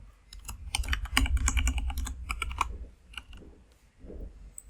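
Rapid keystrokes on a computer keyboard as an email address and password are entered, steady clusters of clicking taps with brief pauses, close and clear, no talking.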